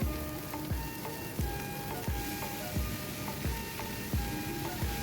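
A steady, crackling sizzle of mustard greens frying in a hot pan, with repeated soft knocks as they're stirred. No voices.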